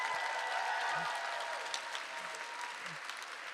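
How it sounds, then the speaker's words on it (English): Sustained applause from a crowd at a poetry slam for the judges, a dense, even wash of many clapping hands continuing throughout at moderate distance. "Another round of applause for the judges."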